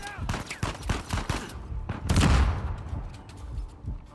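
Combat gunfire in Uncharted 4, with rapid volleys of sharp shots, a heavier booming blast midway, and scattered shots fading afterward, close and loud.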